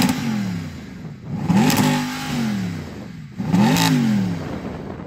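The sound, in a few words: Mercedes-AMG SLS Black Series engine revving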